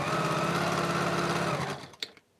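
A sewing machine stitches a sashing strip onto a chain quilt. The motor runs loud and steady for most of the time, then winds down and stops with a couple of sharp clicks.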